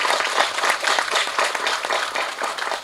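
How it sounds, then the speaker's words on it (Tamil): An audience at a Tamil film audio launch claps in a lively, uneven burst of applause for the director and actor Sadha, fairly close and sustained throughout. "அவருக்கு ஒரு மிக பெரிய கைத்தட்டலை கொடுக்கணும்"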